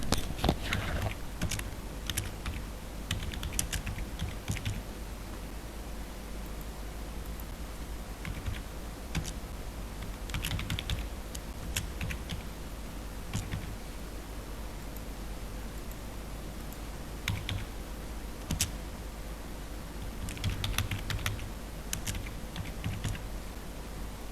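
Computer keyboard typing with scattered clicks, steady and close, over a constant hiss of background noise, with bursts of rapid keystrokes separated by brief pauses.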